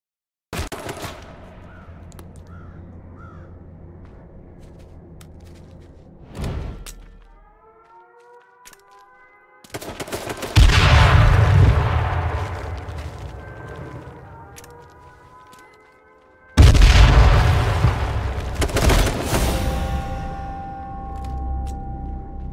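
Bursts of video game gunfire and explosive blasts come in loud waves, separated by quieter stretches with a wailing, siren-like tone, mostly without talk.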